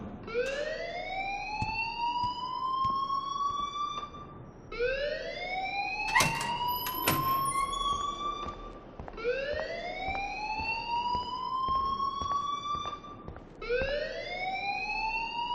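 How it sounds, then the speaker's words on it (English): A repeating electronic alarm in the Life Is Strange video game wails in rising sweeps roughly every four and a half seconds, loud and steady, with a couple of sharp clanks partway through and no talking. "please turn off that alarm since that's your job"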